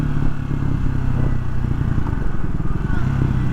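A Triumph Speed 400 motorcycle engine runs close by with a steady low rumble and a faint mechanical clack through the gear changes, under continuous riding noise.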